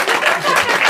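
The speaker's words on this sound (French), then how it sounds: "Ah, elle applaudit." A single audience member claps during a French stand-up comedy set, a brief burst of close, steady hand claps that lasts about a second.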